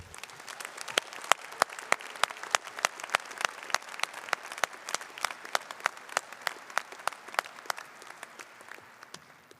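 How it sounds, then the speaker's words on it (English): Graduate commencement audience claps for family and friends, a fairly sparse hall applause with distinct individual claps standing out in a steady, moderately loud stream. "Graduates, let's give your family and friends a great big round of applause."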